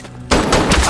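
A loud gunshot bursts out in an action film robbery scene, a sudden sharp blast that keeps rumbling and crackling for a moment after a brief quiet lead-in.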